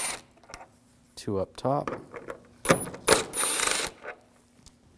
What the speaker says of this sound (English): We're going to take these screws out. Use a T30 socket.